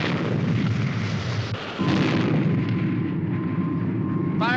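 Cannon fire from a submarine in the Supercar puppet show, heard as heavy booming blasts with a low rumble, loud and close, with a second blast midway and no speech over it.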